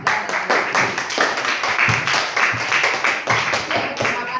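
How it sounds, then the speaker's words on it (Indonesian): Students in a classroom clap for a group of presenters after a lesson on micrometer parts, a lively burst of uneven hand claps and taps, close and fairly loud throughout. "kalau cukup tepuk tangan buat kelompok 4"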